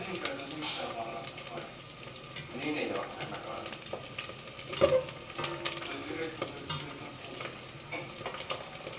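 Pork cracklings fry in a pan with a continuous moderate sizzle, broken by occasional stirring clatter and a sharper crackle, while faint voices murmur in the background.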